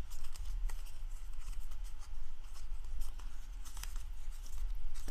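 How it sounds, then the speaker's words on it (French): Cardboard is crumpled and creased by hand to soften it, giving soft continuous crinkling and rustling with scattered sharper crackles, fairly quiet and close. "Je viens ramollir mon carton."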